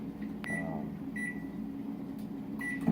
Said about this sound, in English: Our microwave is pretty stout, and so I really don't have to warm it up for too long.